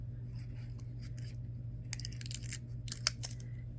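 Scissors snip loose a piece of material while making rainbow resin earrings from a SoftFlex kit, several quick crisp cuts clustered near the end over a quiet steady hum, close and fairly faint.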